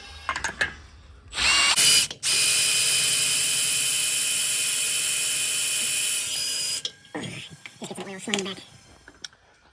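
A power drill whirs steadily for several seconds at close range while servicing a rebuilt Dana 44 axle on a 1978 Ford Bronco, bracketed by brief clanks and handling noises before and after.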